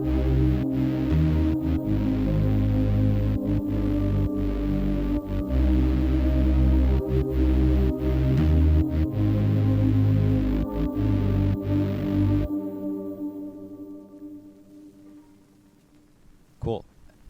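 Sustained future garage synth pad with low end cut away and spacious reverb, playing steady chords with rhythmic gaps, then dropping to a quiet reverb tail before fading out.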